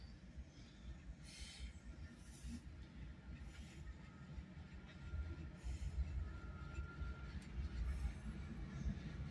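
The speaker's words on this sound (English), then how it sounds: "Loaded coal train." A loaded coal train rolls past in McKeesport, a low steady rumble of wagons that gradually swells louder, with faint wheel squeal and clicks over the track, heard from some distance.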